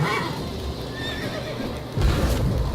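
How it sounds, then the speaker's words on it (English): A horse in a video game neighs and whinnies in agitation, with hoof clip-clops and a rougher burst of noise toward the end. "Horse is freaking the fuck out."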